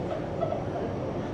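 Steady low rumble and rattle of a train rolling along the rails near El Chorro, Spain, a continuous droning interior noise with no pauses.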